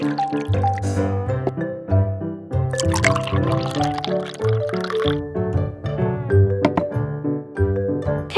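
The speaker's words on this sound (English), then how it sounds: "Continue to add water" Water runs and trickles into a pot of rice, a continuous liquid filling sound with gurgles and splashes, steady and close, without talk.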